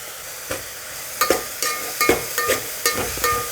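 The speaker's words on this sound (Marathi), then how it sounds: "चांगला फ्राय होऊ देऊ चांगला परतून घेऊ चांगला भाजला गेला पाहिजे" Thick ground masala frying with onions in a pan for a traditional Maharashtrian patolya curry, a soft steady sizzle broken by repeated scraping stirs close to the pan, with no talking.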